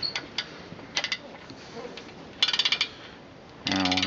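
A ratchet spins on main bearing cap bolts of an engine block, short bursts of quick clicking separated by pauses and light metallic handling, close and moderately loud, ending in a longer clicking run.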